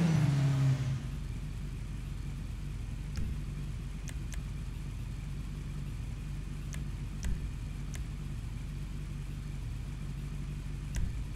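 A car engine in Grand Theft Auto drones at a steady low rumble after a brief louder rev at the start, with faint sharp clicks scattered throughout that could be gear shifts.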